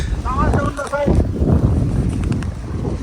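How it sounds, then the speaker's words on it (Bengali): Cold wind gusts across an open field of tobacco and maize, roaring and buffeting the microphone in a low, rough rush, while someone talks over it. "ঠান্ডা বাতাস সেই বাতাস"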